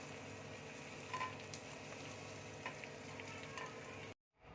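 Salted paneer pieces fry in hot oil with a steady, fairly quiet sizzle and faint stirring clicks, heard close and alone before cutting off abruptly near the end.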